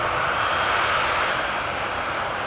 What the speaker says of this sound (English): Croatia Airlines A320 arrived from Zagreb